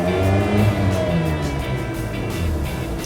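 A Mazda RX-8 rotary engine is blipped, its revs rising and falling in a smooth, steady hum heard close up with no talking over it.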